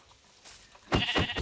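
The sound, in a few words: sheep bleating in a survival video game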